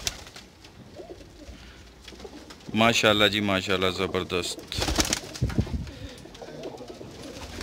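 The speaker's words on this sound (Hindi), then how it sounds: "बहुत अलग किस्म के कमगर कबूतर हैं" Kamagar pigeons coo in a rippling, rhythmic burst partway through, surrounded by soft ambient noise, with someone talking nearby.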